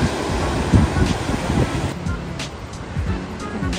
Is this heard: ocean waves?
yes